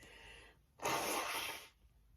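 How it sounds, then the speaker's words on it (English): A single loud sneeze bursts out close by after a brief quiet breath, lasting about a second before fading. "Excuse me, I will sneeze again."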